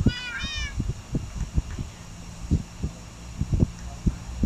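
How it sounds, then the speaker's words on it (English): A cat in the Minecraft video game meows once near the start, a short rising-and-falling cry. It is followed by scattered low thumps and taps over faint background noise. "My cat always hungry"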